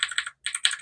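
Rapid keyboard typing, close and crisp, in two bursts separated by a brief pause.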